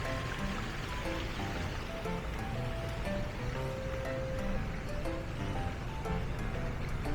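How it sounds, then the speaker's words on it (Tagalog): Continuous rushing water, like a stream flowing nearby in Legazpi Park, Makati, steady and moderately soft with a few faint tonal sounds layered over it. "That's a running water."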